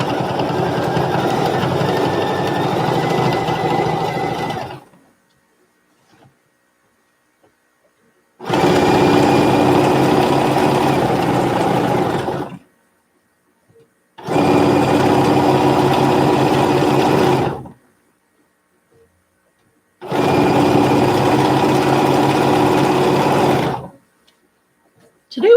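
A domestic sewing machine top stitches a quilt, riding the channel in long steady bursts of mechanical whirring, four runs of several seconds each separated by silent pauses.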